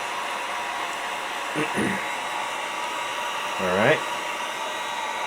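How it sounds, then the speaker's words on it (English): Heat gun blowing steadily to dry fresh paint on a scale model, a constant close whooshing drone throughout, with a brief spoken word over it. "So we'll dry this real quick with the heat gun."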